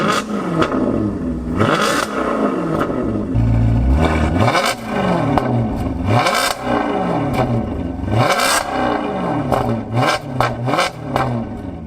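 A warm, already-running Maserati Quattroporte with an exhaust bypass, its engine revved repeatedly in rising and falling sweeps, with loud, close exhaust roar and some mechanical clatter between the revs.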